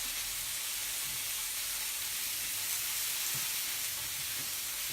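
A beef skewer sizzles on a plancha grill with a soft, even hiss, fairly quiet and steady, with a few faint low knocks and no talking.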